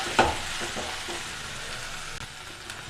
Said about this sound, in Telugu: ఇలా ఫ్రై అయిన తర్వాత మనము చికెన్ యాడ్ చేస్తున్నామండి.